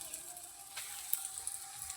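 Carrot and potato chops frying in hot oil in a kadai, giving a continuous bright sizzle with small crackles and pops that stays fairly close, then cuts off abruptly at the end.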